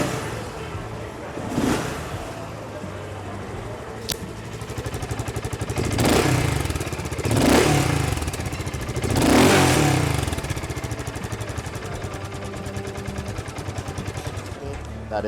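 A BSA Gold Star 650 single-cylinder 652cc motorcycle engine idles with a steady thump, then revs up sharply three times in quick bursts before settling back to idle.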